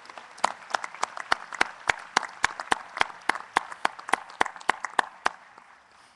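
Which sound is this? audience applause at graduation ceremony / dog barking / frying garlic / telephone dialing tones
audience applause at graduation ceremony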